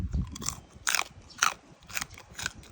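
Crispy fried pork rind is bitten into and chewed up close, giving four or five distinct sharp crunches spaced about half a second apart, with no talk.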